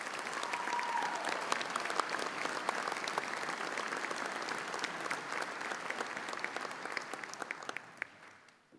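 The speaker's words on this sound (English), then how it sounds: "Let's give a big round of applause for all of our high school athletes of the year." A crowd at a county sports hall of fame ceremony applauds high school athletes of the year, dense sustained clapping with scattered sharp claps that tapers off and fades in the final second.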